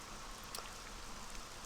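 Rain falling in the video game Morrowind: a constant, moderately quiet wash of patter and hiss with a few slightly brighter drop sounds, and no one speaking.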